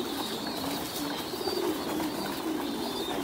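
Pigeons in a flock at a Vietnamese pigeon farm, with soft steady cooing and bird activity under a continuous, fairly even background hum, no talking.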